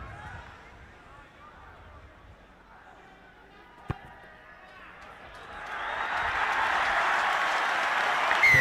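A stadium crowd at a schoolboy rugby match, Trinity College against Royal College, roars after a successful penalty kick. The cheering swells and stays loud to the end, with a sharp thud partway through and commentary heard before it.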